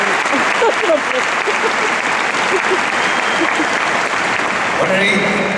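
Concert audience applause in the Palau Sant Jordi arena, Barcelona, at a benefit show for the Pasqual Maragall Foundation: a large crowd claps loudly and continuously with scattered shouts and cheers mixed in.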